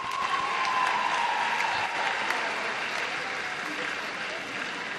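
Audience applause for a graduating class of 2025 at a Ghanaian graduation ceremony, a steady, dense clapping wash that holds evenly throughout at moderate distance, with a faint whistle or cheer rising briefly near the start.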